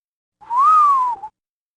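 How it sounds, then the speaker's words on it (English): Storyteller voicing the big bad wolf's whistle in a bedtime telling of the Three Little Pigs: a single clear rising-then-falling whistle about a second long, close and loud against silence, with a short lower note at the end. "He whistled"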